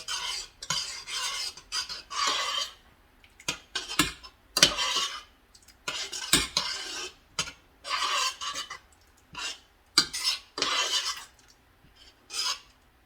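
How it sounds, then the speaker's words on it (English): A melted mixture for Instant Pot yogurt is stirred in a pot, with a spoon scraping against the metal in rhythmic strokes about once a second, close and fairly quiet, with short pauses between bursts. "Still stirring."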